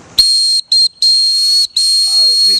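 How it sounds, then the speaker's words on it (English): A dog whistle gives a loud, piercing, steady high tone in four blasts with short gaps between them, and a voice starts faintly under the last blast. "this is my uncle's dog whistle for rat riders."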